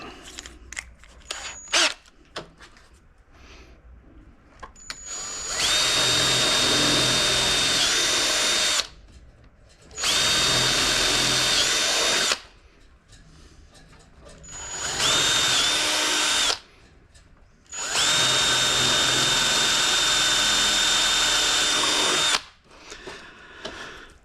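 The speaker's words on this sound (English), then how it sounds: "This drill gets used a lot in this place" A power drill drilling plastic with a 6mm bit runs in four long bursts, each a loud steady high whine, with short quiet pauses and faint handling noises between them.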